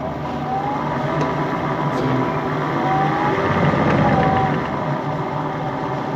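Wood lathe spinning a turning blank, a steady broadband whir with a low rumble that holds at an even level throughout, while people talk quietly over it.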